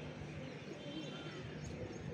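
Pigeons coo softly and continuously from a nearby perch, with a low murmuring flock texture and occasional chirps, no talk.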